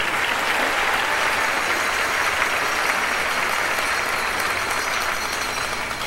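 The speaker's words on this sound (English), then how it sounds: "Give them a round of applause." Sustained audience applause at a state beauty pageant honoring the pageant directors, a dense, steady wash of clapping from a large crowd held at an even level throughout with no voices over it.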